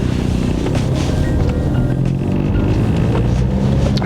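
A diesel BMW with an 85 kW engine and a manual gearbox pulls away and drives on, its engine drone and road rumble steady and close throughout.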